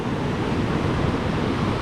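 Rushing river water at Hermit Rapids roars as a dense, continuous broadband wash, close and steady with no voices.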